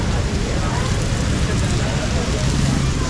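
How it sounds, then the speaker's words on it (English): Heavy rain falls during flooding in Karachi, Pakistan, a dense, loud, continuous hiss and patter of drops on surfaces filling the whole stretch without pause. "Too much rain."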